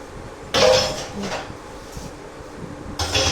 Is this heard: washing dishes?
yes